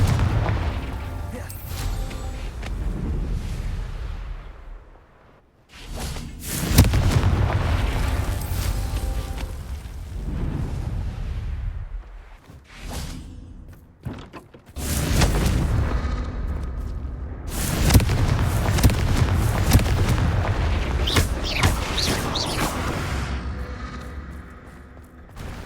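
Heavy booming explosions from the Confringo blasting spell in Hogwarts Legacy come in several loud, sustained bursts, separated by brief near-silent gaps.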